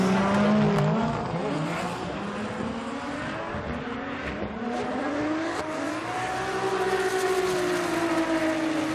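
Formula Drift cars, including a Toyota GR86, racing at a Japanese event, engines wailing and sweeping up and down in pitch as they pass, one near its rev limit, with crowd and track noise.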